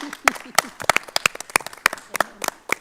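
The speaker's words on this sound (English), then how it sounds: "Give them a round of applause." Sparse applause from a small school board meeting audience, a handful of sharp individual claps spaced irregularly across a few seconds, close and fairly quiet, with a faint voice underneath.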